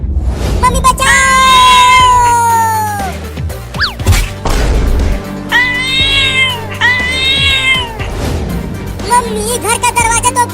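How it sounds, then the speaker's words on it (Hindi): A cartoon cat in a house meows and caterwauls in several long, loud, wavering cries, with a crash and thumps between them and shorter yowls near the end, mixed with lively animated sound effects. "तो एक खतरनाक बिल्ली घर में कैसे आ गई?"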